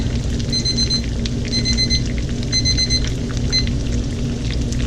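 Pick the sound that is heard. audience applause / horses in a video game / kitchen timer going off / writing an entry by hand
kitchen timer going off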